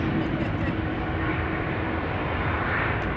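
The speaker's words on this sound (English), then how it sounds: "KLM Cargo 747 will be landing on Buitenveldebaan" A KLM Cargo Boeing 747 lands at Amsterdam Schiphol on the Buitenveldert runway, giving a steady, loud, broadband jet engine roar that holds level throughout with no talk over it.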